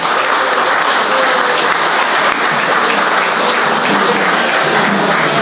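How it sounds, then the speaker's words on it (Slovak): An audience of anglers at a catfish fishing event applauds loudly for an organiser, thick continuous clapping close by that keeps up evenly from start to finish. "veľký potlesk pre Petra Gereho"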